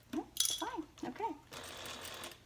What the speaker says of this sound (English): even industrial machines need a hump jumper on occasion, just to help them get going